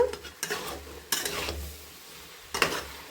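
Paneer and potato mixture stirred in a hot pan, a spoon scraping in several short bursts around a quiet sizzle, close and fairly soft.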